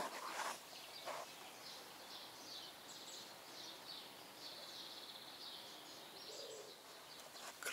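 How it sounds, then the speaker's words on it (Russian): Faint chirping birds sing in central Stockholm over a quiet outdoor background, with soft repeated calls spread across the recording and no talking. "Послушайте, что там происходит. То есть поют птички."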